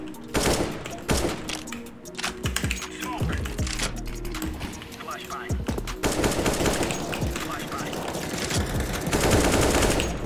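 Rapid automatic gunfire in the CS:GO video game, dense bursts and single shots cracking repeatedly across the whole stretch, with a voice talking over the shooting at times.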